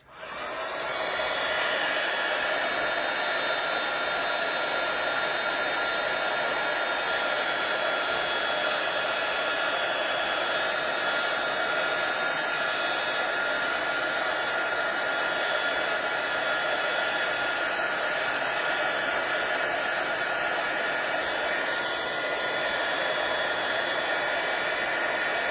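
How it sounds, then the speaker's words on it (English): Heat gun blowing hot air in a continuous loud, steady whoosh and hiss that starts abruptly and holds at an even level throughout. "So I've got my heat gun."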